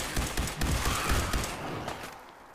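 Bursts of weapon fire from a laser rifle in Fallout 4, dense clustered shots in the first half, then fading to a quieter tail, with no speech.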